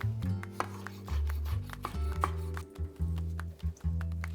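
A knife slices a tomato thinly for fish broth, a quick series of crisp cuts against the board, some closely spaced, over a steady low hum.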